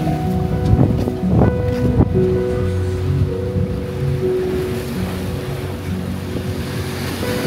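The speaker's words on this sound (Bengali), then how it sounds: "একটু পরপর ঢেউ আছড়ে পড়ছে" Ocean waves wash onto a beach at Phi Phi Island, a steady surf roar with wind, and faint tonal hum from a passing boat engine carries in the background throughout.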